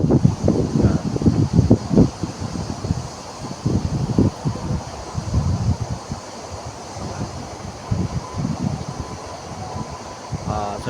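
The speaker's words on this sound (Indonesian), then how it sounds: "mulai ada angin ya, angin besar ini ya." Strong typhoon wind in Taiwan buffets the microphone in uneven gusts, with a steady roar and rustling underneath, loud and close throughout.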